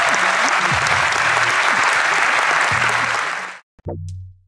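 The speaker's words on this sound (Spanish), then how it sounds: "yo quiero que le demos un verdadero aplauso a Lucas por ese tiempo" Audience at a national tattoo artists' conference gives a loud, sustained burst of clapping that fills the room, then stops abruptly, followed by a brief murmur.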